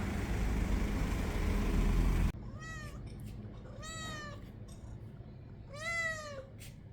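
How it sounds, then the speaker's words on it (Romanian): An adopted domestic cat on Gran Canaria meows three times, rising and falling cries heard close over faint background hiss after a loud rumbling noise cuts off. "Ea este pisica pe care am adoptat-o pentru cele câteva zile cât vom sta aici."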